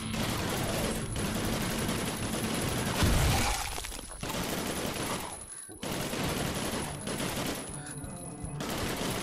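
Sustained automatic gunfire in the VR game Drunk or Dead 2, loud and dense, running almost without pause, with brief gaps and a sharp break near the middle.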